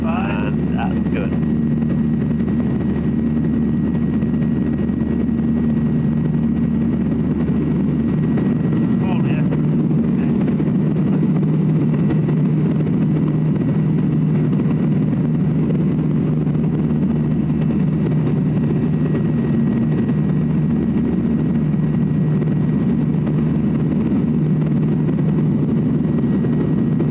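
A Falcon motor glider's engine runs at full throttle during takeoff, a loud, steady droning roar with a constant hum that lasts the whole stretch while voices talk over it.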